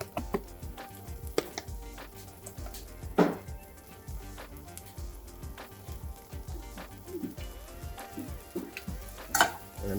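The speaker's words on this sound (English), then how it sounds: "And we'll saute that for about 30 seconds." Chili powder and ground cumin sauté in a pan with a soft, low sizzle, broken by scattered scrapes and clicks of stirring and a few louder knocks.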